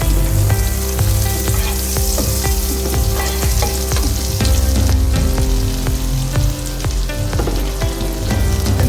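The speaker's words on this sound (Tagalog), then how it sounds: "we're going to saute our onion, garlic, and mushrooms" Onion, garlic and mushrooms sauté in butter in a pan, a loud, close, continuous sizzle with scraping stirring strokes and clinks throughout.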